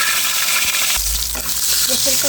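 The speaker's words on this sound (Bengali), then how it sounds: "রসুনটা কিন্তু আমি একটু ভেজে নেব।" Garlic frying in a pan for spinach bhaji gives a steady broadband sizzle with stirring scrapes, and a deeper low rumble swells in partway through.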